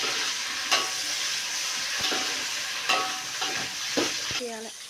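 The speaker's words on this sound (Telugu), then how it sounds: "ఇప్పుడైతే కలుపుతున్నా." Sambar ingredients sizzling and frying in a pan on a home stove as a spoon stirs them, with steady crackling and a few sharp scrapes and knocks against the pan.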